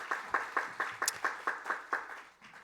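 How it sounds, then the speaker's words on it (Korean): Audience at a university chapel worship service clapping together in a steady, evenly spaced rhythm of about a dozen beats, moderately loud, with no talking over it. "여러분 박수 한번 하겠습니다."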